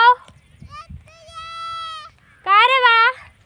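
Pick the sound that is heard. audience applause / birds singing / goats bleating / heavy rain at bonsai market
goats bleating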